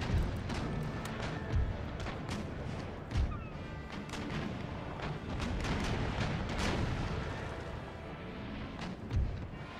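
Ship cannons in the naval battle game Empire: Total War fire round shot, booming in scattered heavy blasts with some near and some distant, over a constant rumble of battle.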